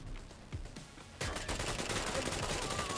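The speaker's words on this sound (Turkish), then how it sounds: "Koşulsuz herkese sıkıyorum." Guns fire in a GTA-style mobile shooter game, a quiet scatter of shots that turns into a dense, rapid volley partway through, faint and distant-sounding.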